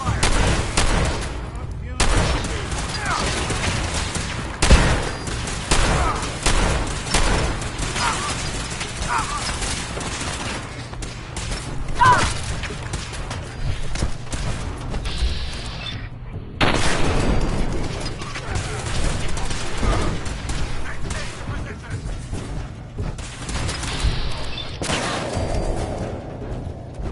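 Sustained gunfire in a Fallout 4 firefight against synths in a control room: dense overlapping bursts and rapid shots run almost continuously, loud and close, with brief voices mixed in.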